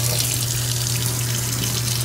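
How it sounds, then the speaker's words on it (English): A newly installed kitchen faucet pours water into a sink as a steady, close hiss with an even flow throughout and no voices. "We have got running water and a beautiful faucet"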